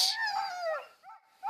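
Sled dogs in Greenland howl and yip in a short, drawn-out wavering chorus, fairly close and clear, with no other sounds around.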